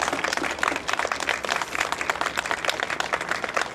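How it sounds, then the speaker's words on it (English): An audience at a West Virginia announcement event gives a dense round of applause, many hands clapping close and loud throughout with no pause. "Let's give them a round of applause"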